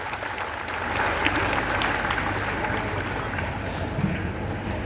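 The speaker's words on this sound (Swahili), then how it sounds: "Makofi ya kwanza tafadhali." A church congregation applauding together, dense steady clapping that fills the room for several seconds without talk.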